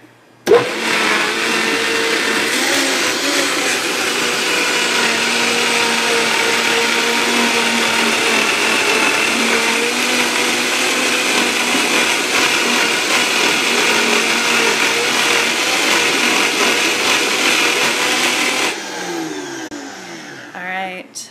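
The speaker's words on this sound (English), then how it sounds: "let's blend now let's see here. Now we've got the flax and the sesame together." A countertop blender grinds flax and sesame seeds for a raw vegan pizza crust, running as a loud, steady whirring roar for about eighteen seconds before winding down and stopping.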